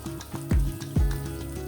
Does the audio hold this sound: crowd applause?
no